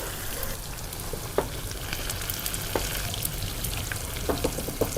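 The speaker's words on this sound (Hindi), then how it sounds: "ये चिकन भी देखें इस साइड में मैंने डाल दिया हुआ है फ्राई के लिए" French fries and marinated chicken coated with spice, food colour and cornflour fry in hot oil, giving a steady close sizzle with a few sharp pops and crackles throughout.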